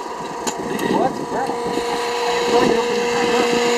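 Turboshaft engine on a jet kart during a power run, a steady high-pitched whine with a rising tonal line, heard up close under intermittent speech and a few sharp clicks.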